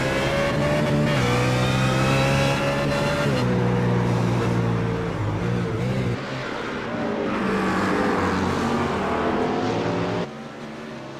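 A race car engine in a GT racing simulator game at Mount Panorama drones and revs loudly and continuously, rising and shifting in pitch through gear changes, with no talking over it.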